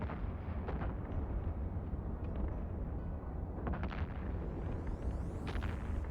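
Ships trade fire in the space game EVE Online: a dense, steady rumble of booming weapon blasts, with scattered sharper bursts, plays continuously at moderate level.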